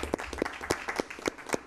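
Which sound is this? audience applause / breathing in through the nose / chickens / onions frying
audience applause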